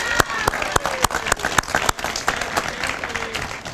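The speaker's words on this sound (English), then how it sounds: "Big round of applause for Kathy Wilson" Scattered applause from the audience at a Veterans Day ceremony, with sharp individual claps standing out near the mic over a softer crowd clapping and some background voices.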